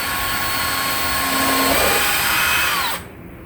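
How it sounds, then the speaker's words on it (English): A power drill pre-drills screw holes in soft cypress wood, a steady high whine with a rising pitch sweep that runs about three seconds, then stops abruptly, leaving quiet room tone. "So we're going to pre-drill."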